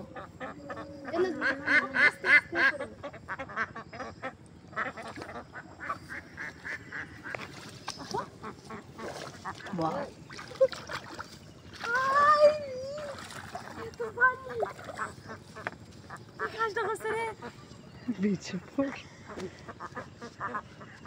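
Ducks quack in bursts on water, with occasional splashes and honk-like calls, while people talk on and off throughout.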